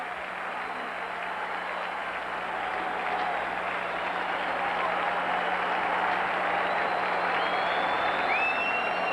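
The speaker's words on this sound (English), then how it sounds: "they get a round of applause" Steady applause and crowd noise fill a baseball stadium at a White Sox game in Cleveland, heard from a distance and holding at an even level throughout, with faint whistles rising near the end.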